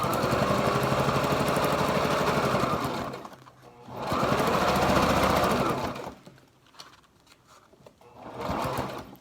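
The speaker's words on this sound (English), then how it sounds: "And then just fold this in half as you sew." A sewing machine stitches a folded halyard mask, its loud mechanical whirring running steadily in bursts separated by short pauses, with a final short run at the end.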